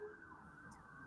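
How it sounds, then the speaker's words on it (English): Emergency vehicle sirens pass by a parking lot, a steady wailing tone heard at moderate distance with faint background noise. "let me let the sirens go by"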